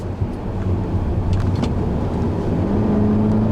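A 2014 Hyundai Elantra with a 1.8 engine driving through fast curves, a steady close engine and road drone under light tire noise, with no talk.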